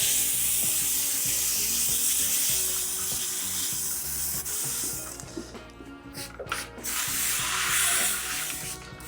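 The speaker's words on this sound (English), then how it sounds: "So I can spray iron remover on what, a dry wheel?" Iron remover sprayed onto a dry car wheel: a steady hissing spray runs for several seconds, fairly close and continuous, with no talk over it.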